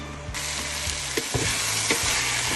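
Chopped garlic goes into a pan of frying kale, giving a steady close sizzle with a few brief stirring scrapes and bursts of spattering across a couple of seconds.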